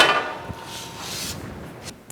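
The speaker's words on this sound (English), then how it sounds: "I'm then going to use the squaring shear and shear off that 1/16 of an inch of material." A squaring shear trims a thin sixteenth-inch strip from the edge of sheet metal for a toolbox. A soft thud comes early and a sharp metallic clack lands near the end, over faint workshop hiss.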